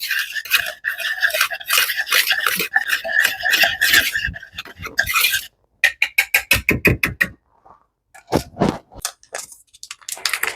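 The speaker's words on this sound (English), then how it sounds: "I'm just going to whisk all these ingredients together to incorporate them." A whisk scrapes briskly through dry scone ingredients, flour and salt, in a bowl, making steady rapid rasping strokes that pause, then resume in short quick bursts, close and fairly loud, with no talking.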